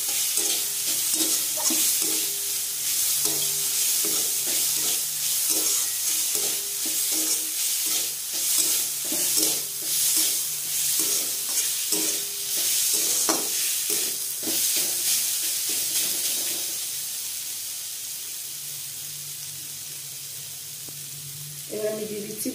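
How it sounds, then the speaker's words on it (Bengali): Spiced masala frying in a pan while being stirred continuously, with a steady close sizzle and scraping strokes that ease off toward the end. "দিয়ে এটাকে ভালো করে ভেজে নেব।"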